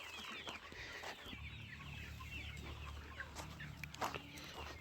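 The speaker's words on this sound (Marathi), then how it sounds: "आपला अंडी देणारा जो पक्षी आहे तो बाहेर आपण मुक्त संचारमध्ये सोडलेला आहे" Free-range laying chickens cluck faintly outdoors over a constant low hum, with scattered soft calls and one sharper squawk near the end.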